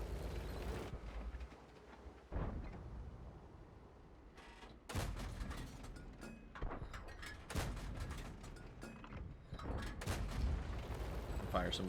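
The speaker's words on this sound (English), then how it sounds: "Fire some blind shots." Tank cannon shots in an armored-vehicle battle game, several sharp heavy booms scattered through the stretch, each with a rumbling tail over low background noise.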